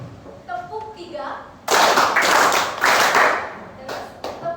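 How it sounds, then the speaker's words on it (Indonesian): A junior high school class in Singaraja claps together in an ice-breaking game, three quick group claps following a voice. The claps are loud and close, with a brief pause between them. "Ice breakingnya itu yaitu tepuk 1 sampai tepuk 5."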